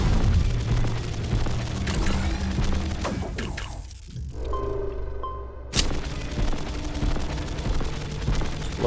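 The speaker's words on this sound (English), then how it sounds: "My gun fires faster than his" Gunfire and blasts in the video game Destroy the Moon, dense rapid shooting mixed with booming explosions and crashes, briefly dropping out before a sharp loud hit resumes the barrage.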